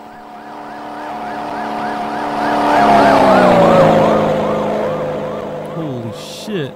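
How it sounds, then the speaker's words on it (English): A car passes in the video game Teke Teke Moonlit Dread, a rising and falling siren-like wail swelling as it nears and fading away, loud over the game's background. "Ooh, look at this car."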